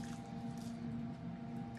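Liquid marinade being poured over chicken and peppers for souvlaki, a faint, short wet squishing and trickling over a low steady hum.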